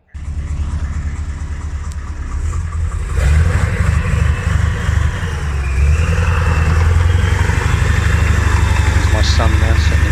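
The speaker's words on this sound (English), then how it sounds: "I'm going to put in some sound now so you can actually hear the engine, because it's a beautifully sounding engine going in" An AMX13 light tank's engine runs during a test drive, starting up then settling into a loud, steady throbbing drone that builds in intensity and holds close and powerful throughout.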